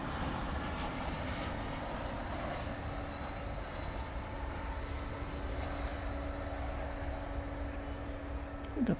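An airliner in America West retro livery at DFW Airport at night rumbles with a steady, fairly faint engine drone and a sustained low hum, heard from some distance.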